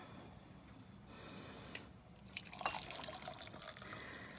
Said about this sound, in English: let's take our hot water that I put in a cup here and let's pour that in